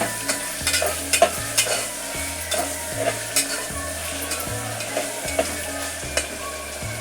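Tomato is tipped into softened onion frying in a pan, a steady sizzle broken by regular scraping stirs and light spatula knocks, with faint music beneath.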